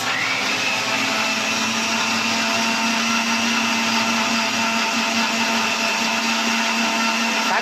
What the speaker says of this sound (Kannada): ಸೊ ಇದನ್ನ ರುಬ್ಕೊಳ್ಳೋಣ